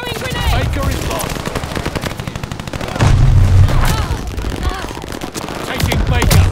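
Grenade explosion in Call of Duty: Vanguard, a loud low boom near the three-second mark within continuous machine-gun and rifle fire, with later booms rumbling under the dense battle noise.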